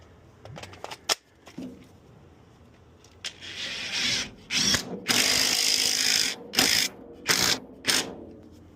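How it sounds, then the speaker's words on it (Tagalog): A power drill drives the final screw into a wooden 2x4 handrail, giving a series of close whirring bursts that lengthen and stop and start, with light knocks and handling before them. "this is the last screw na ilalagay ko"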